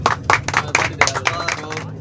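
A group of students clapping along in rhythm aboard a college bus in Gujarat, sharp hand claps landing at a steady beat, close up, with voices mixed in.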